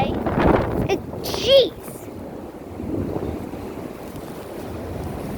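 Strong wind gusts from a windstorm in Ronkonkoma, New York, roar as steady broadband noise buffeting the microphone, swelling briefly, with a short spoken exclamation near the start.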